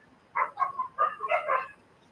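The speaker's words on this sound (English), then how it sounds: "The dogs are not liking what you are saying." Dogs give a short burst of several quick, close barks and yips over about a second and a half, then fall quiet.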